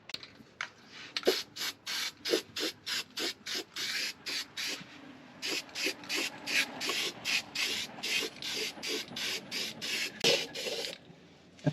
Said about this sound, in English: I'm gonna rub this down real quick right here and spray a little rust reformer on it